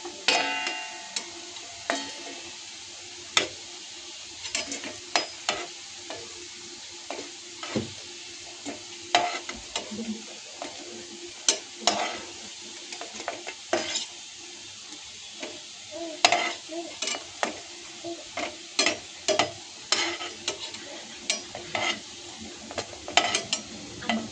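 Colocasia leaf vadi (alu vadi) fry in shallow oil with a soft, steady sizzle, punctuated by irregular ticks and clicks of a utensil turning the pieces, close and fairly quiet with little talk.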